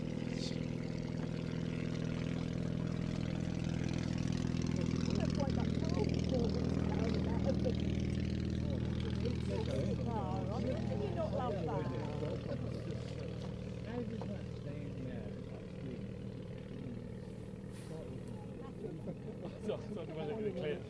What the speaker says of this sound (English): 3 horsepower. Flat twin motorcycle engine.